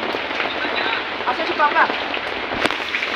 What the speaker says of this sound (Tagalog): Taas ng ulan dito.